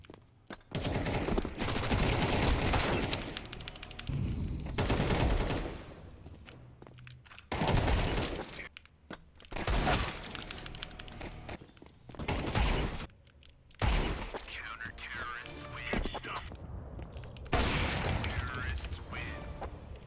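Rapid bursts of gunfire from a first-person shooter match, loud repeated shots and mechanical clatter in several dense volleys separated by brief gaps.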